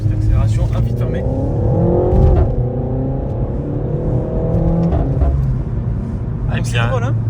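Renault Megane 4 RS 280 heard from inside the cabin as it accelerates briefly with the window closed, a steady engine drone rising in pitch and easing off, with someone talking over it throughout.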